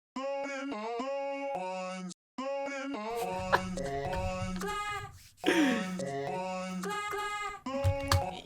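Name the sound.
unprocessed vocal chop sample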